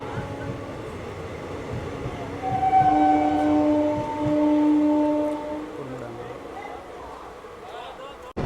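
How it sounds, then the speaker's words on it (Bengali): A MEMU train on the Katwa–Ahmadpur line rumbles steadily, with a sustained horn-like tone sounding for a few seconds as it departs a station, and background noise throughout. "আমাদের ট্রেনটি গ্যান্দাস কান্দ্রা থেকে ছেড়ে দিল"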